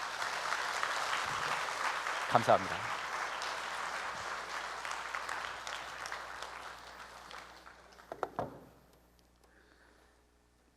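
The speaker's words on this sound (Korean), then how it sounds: "이 두 분께 박수 부탁드립니다." Applause from a congregation at a church worship service, steady at first and then gradually thinning, with a few sharper claps near the end before it fades. A voice briefly says a word of thanks.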